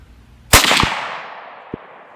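A single loud, sharp report from a 7.62x39 Ruger American rifle fired at an outdoor range, followed by a ringing decay and a faint, distant crack a second later.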